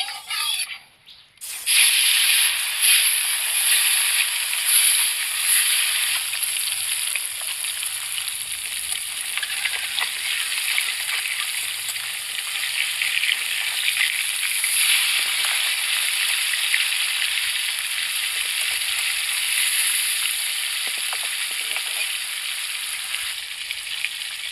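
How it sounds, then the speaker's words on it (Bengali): Pieces of silver carp fry in hot mustard oil in a kadai, giving a bright, continuous hiss and crackle that stays close and steady throughout. "এরপর কড়াইয়ে সর্ষের তেল দিয়ে তেলটা গরম হলে একে একে আমি মাছগুলোকে ভেজে নেব।"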